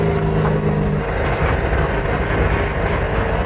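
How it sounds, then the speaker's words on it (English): A car running on compressed air with compressed air technology gives a steady, loud mechanical drone and rumble throughout, with a brief low tone at the start and no talk. "It's a car that runs on compressed air,"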